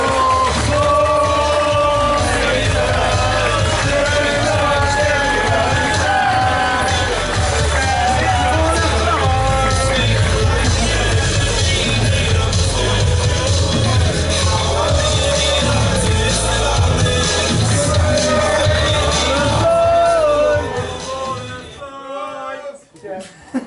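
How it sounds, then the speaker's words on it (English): A packed room at a rugby club awards dinner roars with cheering and applause, a dense loud wall of yells, whoops and clapping mixed with crowd babble that holds for about twenty seconds before dying away into quieter chatter. "Big round of applause, please."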